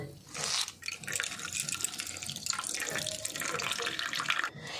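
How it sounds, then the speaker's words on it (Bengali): Water drains from a cloth squeezed by hand while homemade cornflour is being made, a steady close trickling splash with a voice talking in the background. "এভাবে একটু চাপ দিতে হবে, যেরকম ছানার থেকে জল ঝরায় সেরকম করে"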